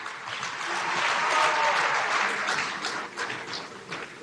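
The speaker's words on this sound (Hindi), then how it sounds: "आइए तालियों की गूंज से उनका अभिनंदन करें।" An audience at an India Chip event bursts into a dense, sustained wave of applause welcoming the Prime Minister, swelling briefly in the middle before easing slightly, with no voices heard over it.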